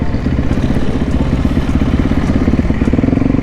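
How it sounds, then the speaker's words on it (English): A pack of mini bikes rides by with a steady, close, rumbling engine drone and a rapid throbbing exhaust note that holds loud throughout. "look, we got a little mini bike gang up there."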